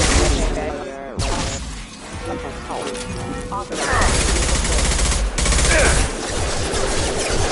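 Dense gunfire from the video game Mass Effect 2, loud continuous bursts and crashes of combat filling the whole stretch, mixed with game effects and voices.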